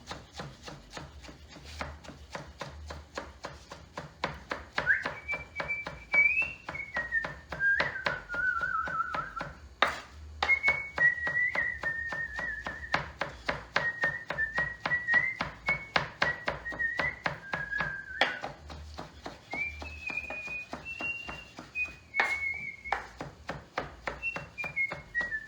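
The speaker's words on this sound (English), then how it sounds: "And now I put on this board, I want to chop really thin." A knife chops spinach finely on a cutting board in a home kitchen, a steady rapid tapping that runs throughout, with someone whistling a tune over it.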